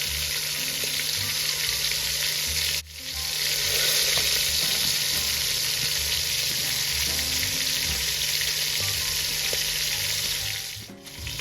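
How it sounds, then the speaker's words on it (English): A beef roast sears in a pan of Mazola corn oil, giving a loud, steady close-up sizzle with a couple of brief dips, no voices. "while your roast is being sauteed on the other side"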